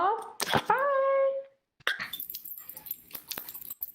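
A dog whines in a few high, drawn-out tonal cries close by, followed by a pause and then rustling, shuffling sounds.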